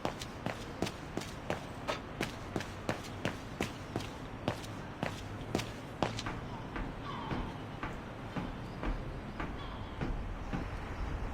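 A tram ride in the game Syberia: The World Before, heard as a steady run of evenly spaced clacks like wheels over rail joints, fading into a continuous rumbling hum in the second half, moderately loud.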